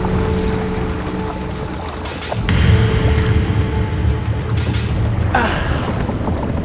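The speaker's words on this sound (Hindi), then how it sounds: "ये कोई मोटर बोट की आवाज है" Motorboat engine droning on open water, a continuous rumbling hum with splashing and wind noise over it, swelling louder midway and staying steady throughout, with no talk.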